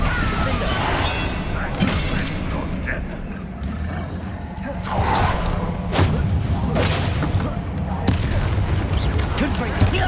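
Spell impacts from Bombarda and Expelliarmus in the video game Hogwarts Legacy arrive as repeated thuds, booms and crashes over a dense, busy game soundscape, with voices underneath.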